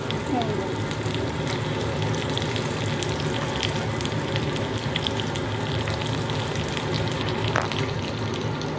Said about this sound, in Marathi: हिरवी मिरची तैर तैर मस्तपैकी अशी होते जिरा पण मस्त चांगलं तेल कडकतोय